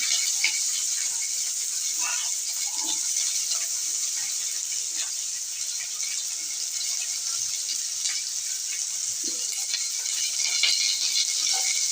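Onions dropped into hot oil with curry leaves sizzle in a steady, bright hiss that runs unbroken for about twelve seconds, with faint crackles and small pops scattered throughout.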